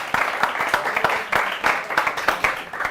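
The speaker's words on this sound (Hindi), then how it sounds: "एक बार जोरदार तालियां हो शंभू जी हमारे भी।" Audience clapping for a poet at an Independence Day poetry gathering, a close, uneven patter of individual hand claps that keeps going for a few seconds with a voice faintly underneath.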